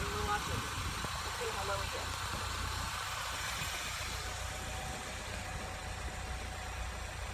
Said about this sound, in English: Look at that truck. It's heading right over this way.